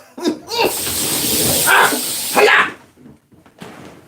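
Aerosol insect spray can fired at a fly indoors, a few sharp hissing bursts of spray, the longest lasting about two seconds, close and loud, with short pauses between.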